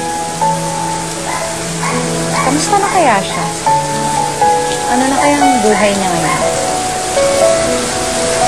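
Steady rainfall hisses throughout while a person speaks softly over it, with faint music in the background.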